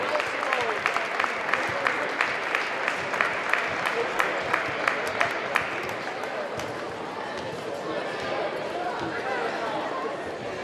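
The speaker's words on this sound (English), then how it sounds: "Let's give a big round of applause to the Nashua North Titans" Crowd applause and cheering for the Nashua North Titans at a boys high school holiday basketball tournament trophy ceremony, with sharp rhythmic claps standing out over a dense roar of crowd chatter in a gym.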